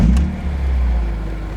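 BMW M3 E46 inline-six with a Scorpion exhaust, a deep steady engine note heard close by, with a brief sharper burst near the start before settling into an even drone.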